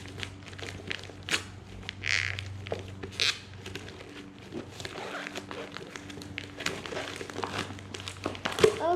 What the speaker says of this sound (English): it's in its own little box with the cute little wrapping paper